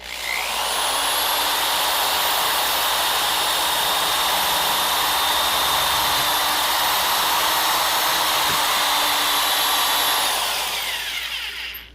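A power drill runs continuously with a steady high whine for about ten seconds, close and loud, with no talking.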